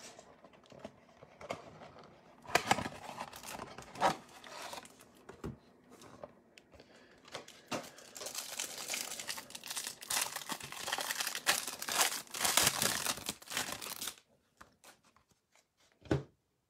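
Topps Series 1 baseball card packs being opened by hand, with crinkling foil wrappers and rustling cards in irregular close bursts, getting busier toward the end and then stopping, with no talking.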